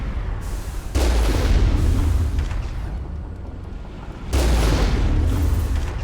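Turrets fire in the sci-fi video game Mass Effect during a Geth incursion, two loud, heavy booms landing a few seconds apart, each followed by a lingering rumble.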